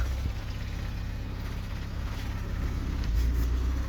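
A Mercedes E190 engine idles steadily with a low, even rumble, close and continuous, with no talking over it.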